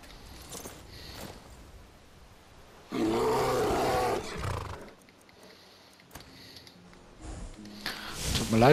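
A bear in a video game lets out a loud, harsh roar lasting over a second, preceded by quieter grunts and snorts and followed by more growling bursts.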